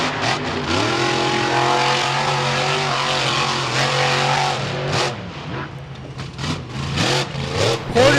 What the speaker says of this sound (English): Hear the engine bumping up against the rev limiter.